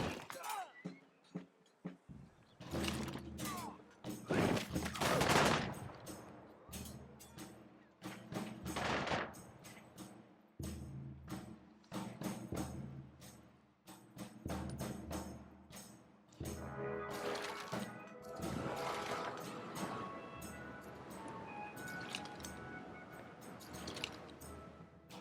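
Units attacking in Civilization VII let off bursts of gunfire, sharp cracks and rattling volleys mixed with crashing impacts, loud and irregular, with busy battle noise continuing throughout.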